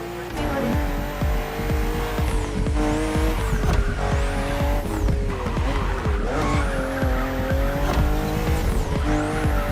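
Race cars in The Crew Motorfest driving a narrow, twisting track: loud engine whine rising and falling through gear shifts, with repeated tire squeals and skids as the cars take sharp bends, continuous throughout.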